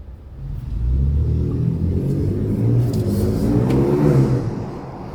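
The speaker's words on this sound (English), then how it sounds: "definitely have some little boost noises. This is not a bad sounding EcoBoost V6" A Ford Ranger Raptor's turbocharged EcoBoost V6 engine rumbles and revs steadily, with faint whooshing boost and whirring sounds rising over the low drone.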